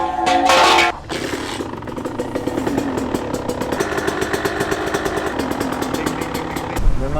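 A 125 TC motorcycle engine running without its air filter, choking and sputtering at close range with an uneven, rough mid-pitched drone and a sharp burst at the start.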